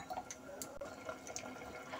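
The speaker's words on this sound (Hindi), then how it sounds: "अब मैं दो गिलास पानी डालूंगी।" Water is poured from a glass into a pressure cooker of rice for coriander rice, a short, soft splashing with small drips, close by and steady, with no one talking.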